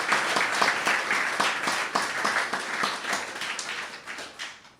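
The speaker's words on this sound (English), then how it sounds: "Give them a round of applause as well." An audience applauds students at a celebration marking a book's 35th publication anniversary, a dense, sustained round of clapping that tapers off at the end.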